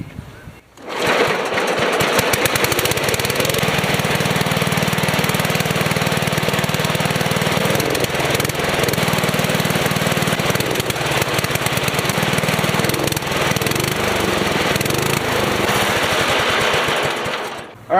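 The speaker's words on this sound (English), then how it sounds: "now let's just see if she starts" A small engine on a home motor build fires up and runs steadily at a loud, constant buzz for most of the clip, then cuts off near the end.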